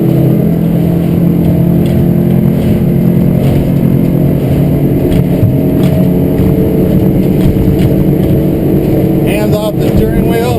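A 2014 Weldcraft 220 Maverick boat's engine runs hard on the water under load, a loud continuous roar with a steady pitch and constant wind and water noise, with a person talking over it.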